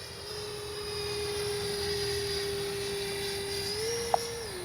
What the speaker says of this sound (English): let's do a nice low and slow pass right down the runway